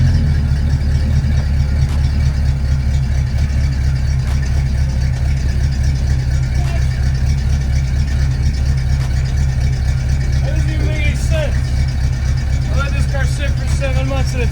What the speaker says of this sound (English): And it starts right up in idles.